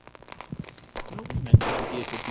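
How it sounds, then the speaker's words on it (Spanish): Fireworks bombs burst outdoors during a street display, a scatter of sharp crackling pops followed by one heavy close explosion and a lingering noisy rush, with people's voices faintly present. "Cómo han salido varias bombardas, se han ido hacia el piso y ha habido la explosión en el piso."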